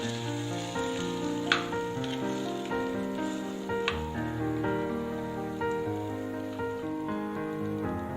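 Soft, steady bubbling and sizzling from a pan of green gram (pachai payaru) curry with added water, with a couple of brief clinks; close and fairly quiet, no talking.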